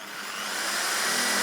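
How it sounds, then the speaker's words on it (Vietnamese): An electric drill whines steadily, rising slightly in intensity as it bores into a thick aluminum bar, close and loud with no talk. "Bây giờ bắt tay cùng nhau thực hiện những mũi khoan nào. Đây, một cái thanh nhôm khá là dày quý vị nha."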